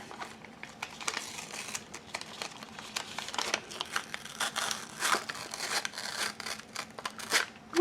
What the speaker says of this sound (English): Oh, I'm gonna tear it.